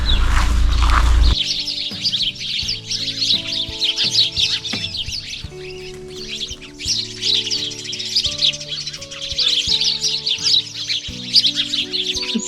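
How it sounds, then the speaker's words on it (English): Sparrows chirp and twitter in a dense, busy chorus while settling into a bush for the evening at a sheltered campsite in the Wairarapa, with steady chatter and overlapping calls throughout. "Sparrows settling into this bush for the evening, having a catch up on their activities during the day"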